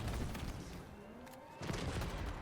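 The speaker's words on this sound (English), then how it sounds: "there's just a lot of fucking explosions right now" Explosions and gunfire in the video game Halo Infinite: a dense, rumbling barrage of booms and shots that eases briefly in the middle and then swells again, continuous and fairly loud with no talk.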